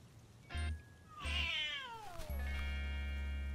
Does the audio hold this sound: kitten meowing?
yes